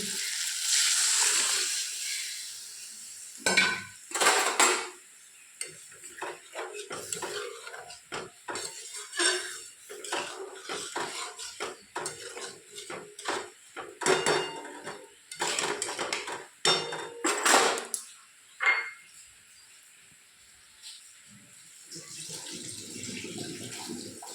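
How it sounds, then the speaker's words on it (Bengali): Mung dal being added to a pot with fish head, heard as a busy stretch of clattering pot and utensil knocks with splashing, pouring water, loud and close, with occasional quiet voice in the background. "এবার ডালটা দিয়ে দেবো"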